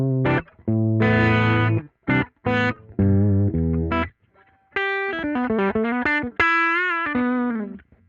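An electric guitar plays through an emulated amp plugin in GarageBand, set on the edge of distortion. It is played as a mix of short chords and sustained single notes with pauses between phrases, loud and up close.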